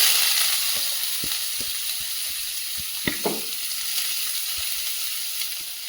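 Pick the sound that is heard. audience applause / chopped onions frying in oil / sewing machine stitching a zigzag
chopped onions frying in oil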